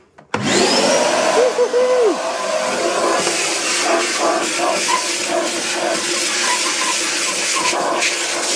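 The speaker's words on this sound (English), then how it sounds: "it's a wet and dry vac" A wet and dry vacuum cleaner starts up with a rising whine and then runs steadily at high volume, a loud continuous roar with fluctuating hiss close by.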